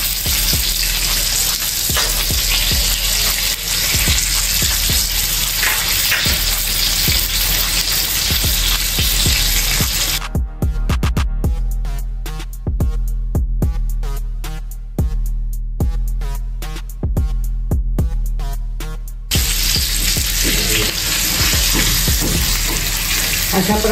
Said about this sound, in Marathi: छान असं दुसऱ्या साइडने पण आपलं फ्राय झालेलं आहे पापलेट